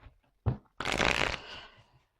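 A tarot card drops onto a table with a soft tap, then slides across the surface in one smooth, close swish that fades out.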